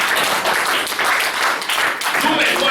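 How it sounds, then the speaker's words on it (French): A church congregation applauding the prophet at a sermon: steady dense clapping throughout, loud and close, with voices mixed into the crowd noise. "Acclamation pour le prophète."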